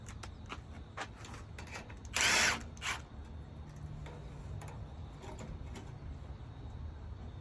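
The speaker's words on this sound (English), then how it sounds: "See if I can get it rotated right and get the impact on it" An impact wrench loosening a nut on a 6.0 Powerstroke engine, heard as a short loud rattling burst followed by a brief second hit, with quiet workshop shuffling and clinks around it.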